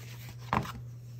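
Scissors snip through planner stickers in one short, close, crisp cut against a quiet room hum.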